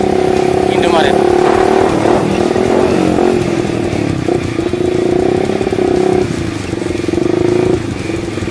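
A motorcycle engine runs steadily with a loud, droning hum that shifts in pitch as the bike rides up and slows to park, while voices are heard over the engine.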